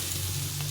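Mixed vegetables and cabbage fry in hot oil for fried rice, a quiet, steady sizzle close up with a faint stirring scrape partway through.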